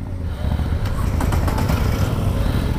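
A Moto Guzzi V9 Bobber motorcycle engine drones steadily while riding, loud and close with a low throbbing rumble and wind buffeting throughout.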